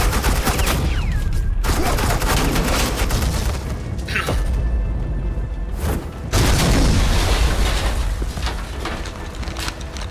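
Suppressing gunfire in Batman: The Enemy Within, a loud sustained barrage of rapid shots and booming impacts that keeps going almost without a break, with short gaps and some heavier bursts, and no voices heard.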